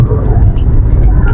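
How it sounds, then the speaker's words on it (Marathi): A Volkswagen Jetta diesel car accelerates hard at speed, giving a steady, loud rush of road and wind noise with a low engine drone from inside the cabin. "लाईटच्या वेगाने गाडी धावत आहे मित्रांनो."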